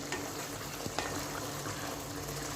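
Ridge gourd curry, its water mostly cooked off, simmers and sizzles quietly in a pan. A soft, steady bubbling hiss is broken by a couple of faint clicks.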